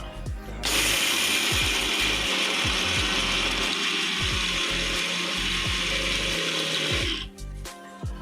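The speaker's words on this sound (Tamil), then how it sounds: "இப்போ நம்ம இதை தண்ணி சேர்க்காமல் ட்ரை பவுடராக நல்லா அரைக்க போகிறோம்." A kitchen mixer grinder whirs loudly as it grinds peanuts dry into powder, starting abruptly, holding a steady high-pitched motor roar with rattling from the jar for several seconds, then cutting off.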